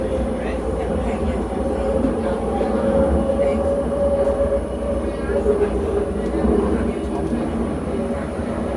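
Interior of a new Translink SkyTrain Alstom Mark V car running from Columbia to Waterfront, a steady loud rumble with rail noise and a whining motor tone throughout, with voices talking under it.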